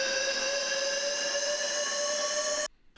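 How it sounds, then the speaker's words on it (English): Synth riser effect from an Ableton tech house drop, a steady loud tonal sustain with a hissy layer that holds evenly for over two seconds and then stops abruptly. "And then we have this riser."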